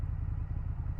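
A motorcycle engine idles steadily up close in winter, a low, continuous rumble with a fast pulsing beat and no voices.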